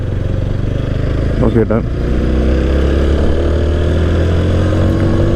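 TVS Apache RTR 160 4V motorcycle engine running with a steady, loud low drone throughout, its note rising slightly near the end; a voice speaks briefly early on.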